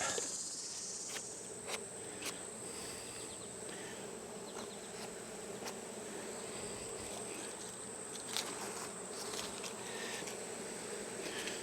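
Honeybees buzz steadily around an open hive while wax foundation is being added, a dense, close swarm drone running unbroken throughout with no talk.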